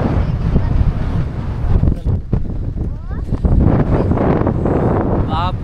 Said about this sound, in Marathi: भरपूर वारा आहे. सुसाट एकदम.